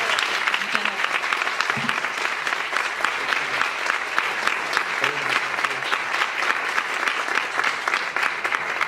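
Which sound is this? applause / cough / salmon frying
applause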